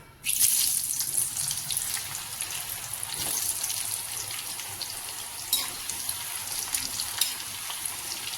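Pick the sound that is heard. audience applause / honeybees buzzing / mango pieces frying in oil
mango pieces frying in oil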